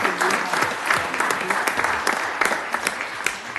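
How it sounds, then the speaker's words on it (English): An audience at a city commission meeting applauds a group of young students: brisk, continuous clapping from many hands, fairly close, with a few louder claps standing out. "A round of applause for these young citizens"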